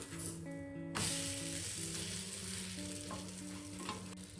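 A bread omelette sizzles and fries steadily in a pan over a medium flame just after being flipped, with a continuous crackle under tonal background sounds and no talking.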